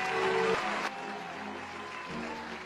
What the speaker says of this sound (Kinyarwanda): Bamwakirije amashyi n'induru nyinshi bigaragaza ibyishimo